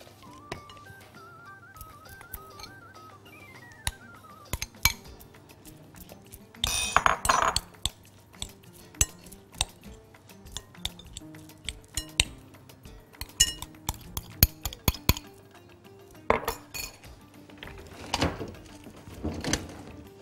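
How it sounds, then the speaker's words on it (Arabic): Burger ingredients being mixed in a kitchen bowl, with scattered clinks and scrapes of a utensil against the bowl, irregular knocks and taps, and a louder clattering burst partway through, close up with no talking. "نجيب بولة كده نلخبط فيها المكونات"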